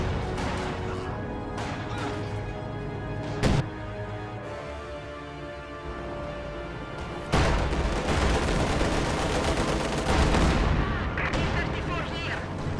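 Gunfire and explosions from a tank battle video game featuring T-34-85 tanks and indirect mortar-like fire: a steady roar of battle noise, punctuated by two sharp, loud blasts partway through.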